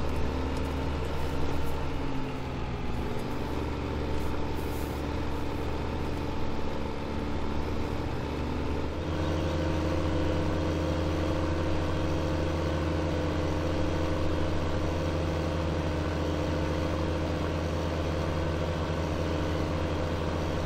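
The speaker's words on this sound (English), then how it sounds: "the car's driving at this speed." A vehicle engine in the farming video game Farming Simulator 2015 gives a steady, mid-pitched droning hum that shifts tone partway through as the vehicle drives on, heard alone without talk.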